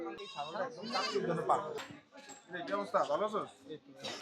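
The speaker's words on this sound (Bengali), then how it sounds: "একটা ছাগল দেখা যায়" A goat bleats in wavering, quavering cries outdoors in rural Bangladesh during a traditional fishing outing. The calls are moderately close and interleaved with people talking.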